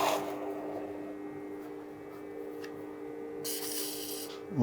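Close, steady rasping and rubbing as the protruding plaster edge of a beer stein mold is smoothed by hand, a dry continuous scrape with no voices.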